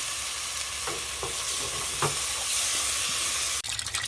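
Tomato and shallot paste sizzling in a pan with sardines, a steady loud hiss broken by a few stirring scrapes, no voices.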